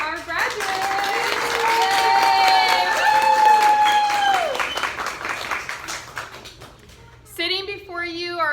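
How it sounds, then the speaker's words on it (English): Audience applause for graduates at a 2019 graduation ceremony, a steady roar of clapping and cheering lasting about seven seconds, with a voice talking over it before it fades and speech follows. "Let's give a round of applause to our graduates."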